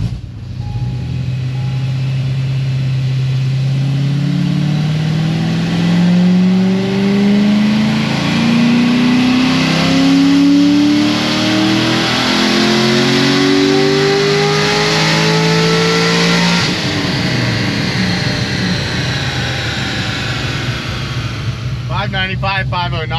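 An LS7-engined car on a dyno makes a loud sustained pull, engine pitch climbing steadily through the run before cutting off and dropping back near the end.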